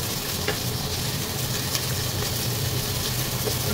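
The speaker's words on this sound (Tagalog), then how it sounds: "Gisa-gisa lang." Onions sautéing in a pan as the base for chicken gizzard and liver adobo, giving a steady, close sizzle of frying with faint stirring scrapes throughout and no voices.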